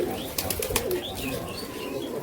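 Rajshahi local Giribaj pigeons in a loft, a soft murmur of coos with a few brief chirps and wing flutters close by, steady and low over a busy background.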